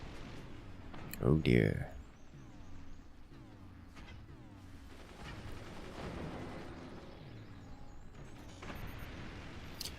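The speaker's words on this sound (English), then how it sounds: "Magna beam mortars." Magna beam mortars firing in the physics-based RTS Forts: one loud booming burst early on, then a steady rumble of battle noise with a voice talking over it throughout.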